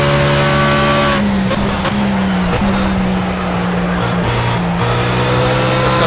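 Race car engine held at full throttle in fourth gear down a back straight in a racing sim, a steady loud droning whine that holds pitch with brief dips, continuous throughout with no talk.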